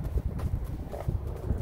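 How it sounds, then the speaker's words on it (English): A horse near stables and a livery on a trail ride, its hooves clip-clopping in a steady, moderately close walking rhythm with some outdoor background noise. "there's another horse over there already"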